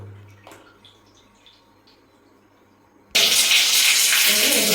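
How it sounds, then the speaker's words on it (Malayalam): Water rushes through the pipes and valves of a newly connected V-Guard water heater, a loud steady hiss that starts suddenly after a quiet stretch of faint clicks and drips. "അപ്പോൾ കറക്റ്റായിട്ട് ഇവിടുത്തെ ഈ വാൽവൊക്കെ ഓപ്പൺ ആയിട്ട് മുകളിലേക്ക് വെള്ളം പോകുന്നുണ്ട്"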